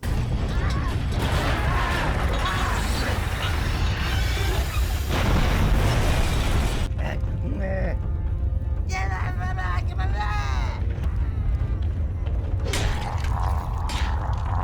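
Heavy rumbling and crashing as a building collapses in the Overlord video game, dense low booms and mechanical creaks up front giving way to sparser clanks and debris rattles, with game voices talking over parts of it.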